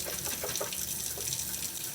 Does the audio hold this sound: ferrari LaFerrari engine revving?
no